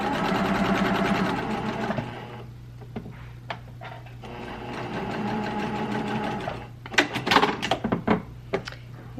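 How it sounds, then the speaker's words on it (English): Domestic sewing machine stitching a quarter-inch seam around a corner of fabric held together, a steady close whirring run that pauses briefly midway, then resumes with clattery bursts near the end. "And I'm sewing 1/4 of an inch and rounding the corner and holding the"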